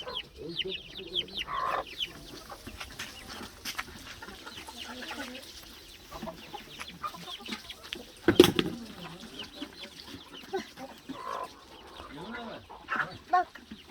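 Chickens and chicks cluck on and off with a soft farmyard bustle, one sharper burst standing out midway, and faint murmurs in the background.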